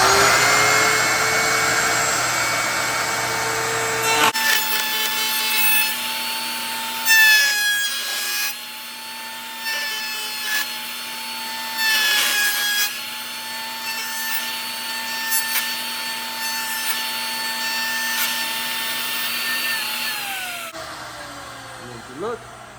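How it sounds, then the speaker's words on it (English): A router cuts the edge of an epoxy resin and wood coaster, giving a loud, steady high-pitched whine with shifting tone and bursts of grinding as the bit bites into the material. "so let's router this"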